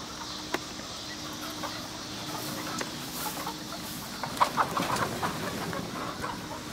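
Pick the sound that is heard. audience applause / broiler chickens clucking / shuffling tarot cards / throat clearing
broiler chickens clucking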